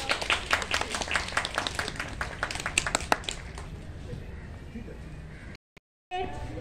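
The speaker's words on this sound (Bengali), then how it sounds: "সবাই জোরে হাততালি।" Audience at a neighbourhood club game show clapping during a prize presentation, with a burst of many close hands for about three seconds that thins into scattered claps and then cuts off, with voices talking over it.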